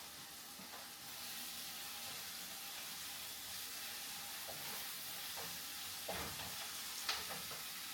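Onions and garlic fry in a pan for callaloo, giving a steady close sizzle with soft crackles and a few stirring scrapes and clinks near the end, and nobody talking.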